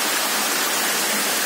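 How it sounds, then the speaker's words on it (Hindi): Water from a very high waterfall crashes down in a dense, steady roar of broadband noise, loud and close, with no voices. "कितने ऊपर से पानी आ रहा है"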